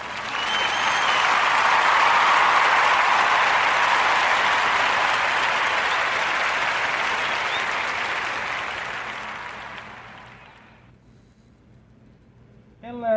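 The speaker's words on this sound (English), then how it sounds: "So join me into giving our sister Maya Madison and Maya's Cookies a warm narrative podcast round of applause." A crowd gives a sustained round of applause for a podcast segment, dense and fairly loud. It swells, holds, then slowly fades out over about ten seconds before a voice starts at the very end.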